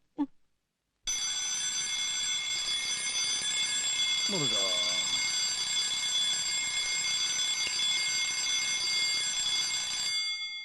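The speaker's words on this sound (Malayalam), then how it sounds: "ഇതാരാ 3 മണിക്ക് അലാറം വെച്ചത്?" An alarm clock rings at 3 a.m., a loud continuous electronic ringing that holds steady for about nine seconds and then stops. A brief voice is heard over it partway through.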